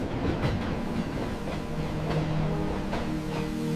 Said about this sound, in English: The train set off, as it had countless times before.